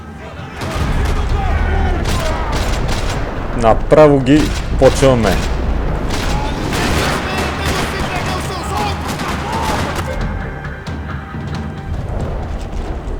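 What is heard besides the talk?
gunfire in a video game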